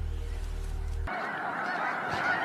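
Geese honk in a large flock in a wintry Missouri wetland, a dense continuous chorus of calls that fills the air with a low rumble of wings or water underneath.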